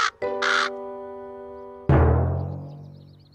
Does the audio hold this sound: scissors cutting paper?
no